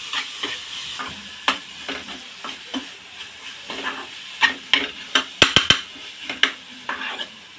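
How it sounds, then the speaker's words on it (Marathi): Raw mango chutney sautés in oil, with a soft, constant sizzle broken by repeated sharp scrapes and knocks of a spoon stirring against the pan, several in quick succession near the end. "तेलामध्ये मिक्स करून घ्यायची आणि एक दोन मिनटं आपण ही तेलावरती परतून घेणार आहोत"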